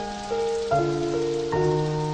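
Pouring rain in a garden gives a steady, dense hiss that runs under sustained orchestral music whose chords shift every second or so.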